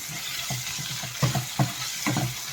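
Onion, green chilli and ginger frying in a pan, a soft sizzle under regular spatula stirs that scrape and tap the pan at a steady pace.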